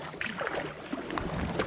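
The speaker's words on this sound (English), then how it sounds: "What I'll do is I'll paddle fast at first and then I'll do a slower paddle." Quick paddle strokes splash and swish through water beside an Aquaglide Backwoods Expedition 85 inflatable packraft paddled fast with a fin fitted, close and fairly soft, with wind noise and no talk.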